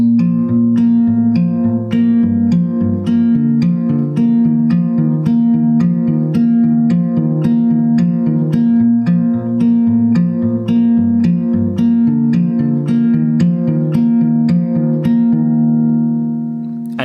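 A guitar plays the steady, repeating picked post-chorus riff of a song, plucked notes ringing out evenly and fading at the end.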